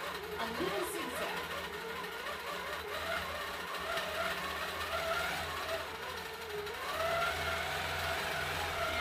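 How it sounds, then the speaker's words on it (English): Sewing machine stitching a zigzag through basted quilt layers, a steady continuous mechanical whir running throughout with a faint voice underneath. "I'm just going to stitch a little zigzag."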